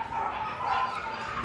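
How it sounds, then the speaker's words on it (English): Little puppies fighting over each other with excited, overlapping yips and small barks, a steady busy scuffle filling the short stretch at close range. "there's a dog fight going on in here right now. Dang, those little puppies are going ham."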